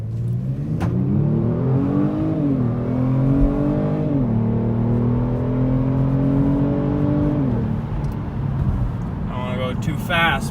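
2019 Kia Stinger accelerating hard in sport mode, heard from inside the car: a strong steady engine drone climbs through gear changes, loud and close throughout.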